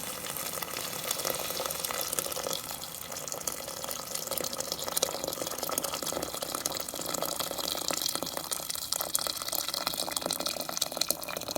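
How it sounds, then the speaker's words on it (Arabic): Hot water pours steadily into a pot of Moroccan harira soup. The splashing and gurgling flow is soft and continuous, with no voices. "غادي نروي ان شاء الله بالماء سخون"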